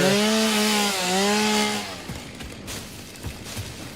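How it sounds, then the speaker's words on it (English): A chainsaw in the video game Satisfactory, used to clear an obstacle: a loud, steady motor whine for about two seconds that drops and cuts off, leaving faint clicks and thumps of game ambience. "It's weird how it requires a chainsaw for that"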